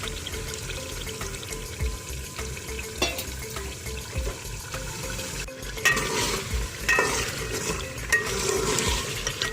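Taro root (arvi) sizzles and fries in a pan while being stirred, with steady crackling, scraping and clinking throughout and a brief burst of bubbling hiss later on.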